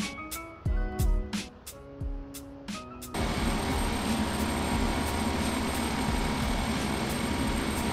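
Turboprop aircraft engine in Flight Simulator X, first heard as scattered tonal bursts, then settling after a few seconds into a steady, loud, full-band drone with a constant whine.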